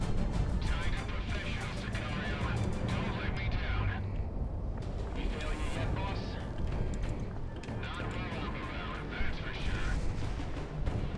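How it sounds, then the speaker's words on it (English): Dense missile barrage in the combat flight game Project Wingman, a continuous loud roar of launches and explosions running throughout, with talk over it. "Oh geez, that's a lot of missiles."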